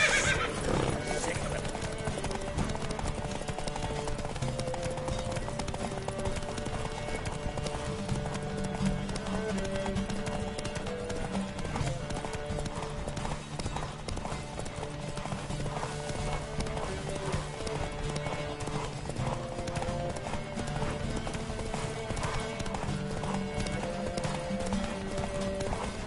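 Steady galloping hoofbeats of a horse in the video game The Witcher, continuous and loud, with music and occasional voices mixed underneath.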